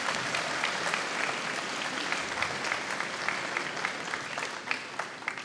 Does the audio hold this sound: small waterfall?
no